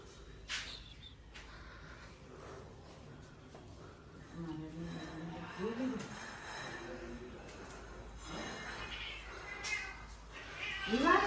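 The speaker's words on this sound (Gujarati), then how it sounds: "બસ કેટલી બધી બિલાડીઓ જો" Cats meow now and then, a few rising cries in the middle and a louder one at the end, while people talk quietly nearby.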